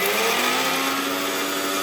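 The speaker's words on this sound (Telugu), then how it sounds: "ఇప్పుడు మనం మిక్సీ పట్టేద్దాం." Kitchen mixer grinder (mixie) running steadily, a loud continuous whirring hum with a high motor whine that holds even and unbroken throughout, no voices.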